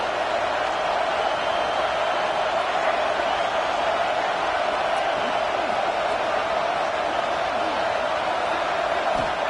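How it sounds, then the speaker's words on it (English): A large stadium crowd at a college football video game roars in a steady, continuous wash of noise, loud and sustained throughout with no clear breaks. "This crowd bringing the energy and noise early."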